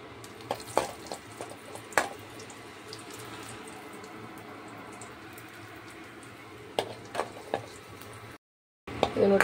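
Cashews, almonds and raisins fry in hot ghee with a soft, steady sizzle that runs throughout, broken by a few clinks of a stirring spoon and a short drop into silence near the end.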